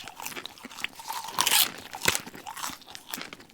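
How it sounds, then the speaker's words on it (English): Close, crunchy chewing of popcorn at a cinema, with irregular bites and crackles, loud and near with no talking. "Someone eating popcorn at the cinema."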